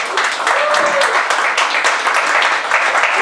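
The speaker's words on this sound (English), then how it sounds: "Clap, dummies." An audience applauds at the Impact Wrestling Bound for Glory press conference, a loud, continuous patter of hand claps with voices talking over it.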